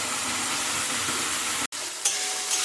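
Chutney paste for momos hits hot refined oil with chopped ginger, garlic and coriander in a pan, giving a loud, steady sizzle that breaks off for an instant, then resumes with light stirring scrapes.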